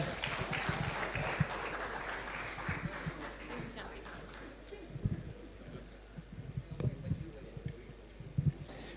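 An audience at a presidential entrepreneurs' pitch event breaks into clapping that starts dense and gradually fades into scattered claps and thumps, with people talking under it.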